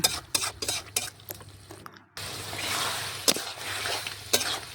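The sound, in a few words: stirring mutton with spices in pan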